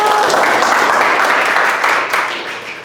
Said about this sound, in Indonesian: Kelompok 2 tepuk tangan yang semangat dulu.